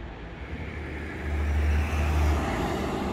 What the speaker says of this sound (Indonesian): Ada bis karyawan yang mau bekerja